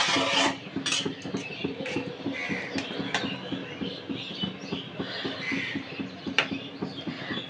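A spoon scrapes and stirs boiled, mashed potato marinated with salt and turmeric into spice masala in a pan, repeated close metallic scraping and clinks in a steady rhythm.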